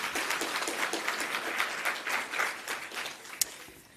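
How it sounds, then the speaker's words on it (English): Audience applause at the 30th NEDLAC Annual Summit, a steady wash of many hands clapping in a hall for about four seconds, fairly distant and even, with one sharper clap standing out near the end. "Can we have another round of applause"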